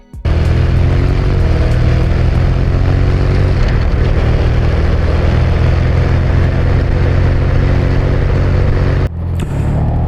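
A Honda VFR 1200 DCT motorcycle with a dual-clutch gearbox out on a ride gives a loud, steady engine and wind roar that runs unbroken, dipping briefly near the end.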